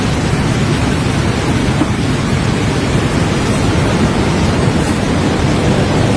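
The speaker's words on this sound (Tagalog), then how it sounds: "Grabe, lakas ng bagyo." Typhoon Uwan lashing a house in Aurora with a loud, constant roar of wind, driving rain and crashing waves, a dense unbroken wall of noise with no voices.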